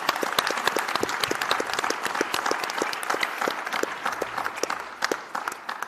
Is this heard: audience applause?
yes